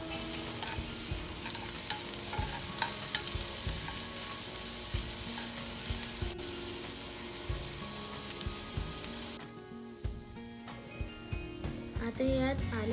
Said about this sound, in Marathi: आता एका पॅन मध्ये थोडंसं तेल घालून त्यात थोडंसं जिरं व चिरलेला कांदा टाकून फ्राय करून घ्यावे